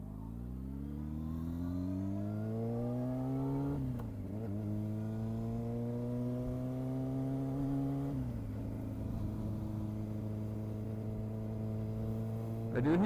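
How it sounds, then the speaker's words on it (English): A Honda CBR motorcycle pulls away and climbs through the gears in three rising sweeps, its engine note steady and close. The rider suspects a slight noise from a manual cam chain tensioner, but no tick stands out. "I do hear a slight, tiny little engine noise to it, and I'm thinking it's my cam chain tensioner"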